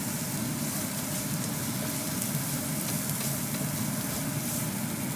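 Garlic and ginger frying with onion in a pan, a steady, loud, close sizzle with a constant hiss and faint scraping as the pan is stirred, without any voices.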